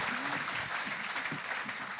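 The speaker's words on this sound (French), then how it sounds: "On peut les applaudir." A crowd applauds award winners at a foundation prize ceremony, with steady, dense clapping sustained throughout.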